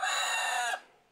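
Chickens roosting high in a miracle tree give one loud, sustained crow-like call that stops abruptly, leaving near silence.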